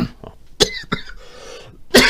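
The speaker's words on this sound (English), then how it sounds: "I've got a bit of a cough" A few short, harsh coughs in quick succession, loud and close, with a sharper final burst after a brief pause and no talking.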